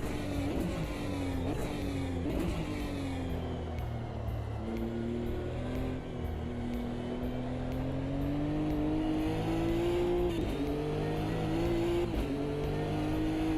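Nissan Nismo race car engine running close and loud on a mountainside track, a steady strained drone with rising and falling revs and gear changes throughout, no voices.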